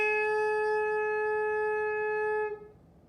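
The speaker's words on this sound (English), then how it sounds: "that's actually our starting sound for the saxophone" A saxophone mouthpiece and neck played together give a steady, bright buzzing tone with strong overtones, held for about two and a half seconds before it cuts off sharply. No other sound accompanies it.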